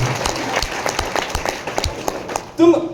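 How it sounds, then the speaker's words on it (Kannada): Audience applause at a direct-selling training event in a hotel hall, a dense burst of clapping from a crowd with a rhythmic pattering, ending as a voice begins speaking. "ಒಂದು ದೊಡ್ಡ ಚಪ್ಪಾಳೆ ಬರಲಿ ಸ್ನೇಹಿತರೆ"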